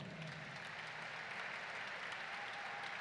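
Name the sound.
audience applause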